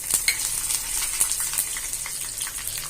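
Mustard seeds, cumin and urad dal are tempered in hot oil for a garlic chutney, giving a steady bright sizzle with scattered crackles and pops close up.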